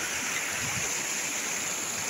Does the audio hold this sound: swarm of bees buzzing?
no